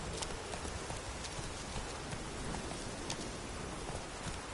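Faint, steady clip-clop of the horse Roach's hooves in The Witcher 3 taps along at a brisk pace under a soft, even hiss, with no voices.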